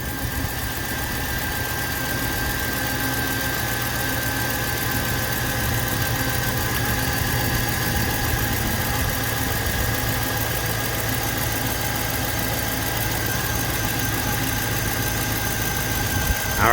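Chevy Suburban engine idling after an accessory belt, idler and tensioner repair, a steady close mechanical hum with a faint continuous tick running through it and no talk.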